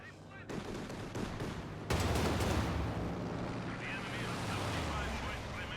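An aircraft strafing run in the real-time strategy game Company of Heroes 2 produces a dense, loud roar of gunfire that swells sharply partway through and keeps rumbling, while commentators talk over it.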